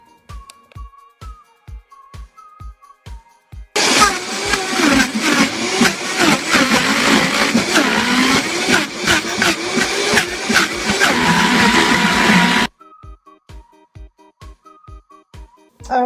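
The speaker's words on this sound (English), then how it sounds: "we're going to hit this baby in the blender" Vitamix blender crushing iced tea cubes with matcha and cream, a loud, dense continuous roar lasting about nine seconds, starting abruptly and cutting off sharply, with quiet speech before and after.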